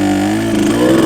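A KTM 150 two-stroke dirt bike engine holding a steady buzzing idle, then its pitch shifting and rising as the clutch is slowly released, loud and close with no talk.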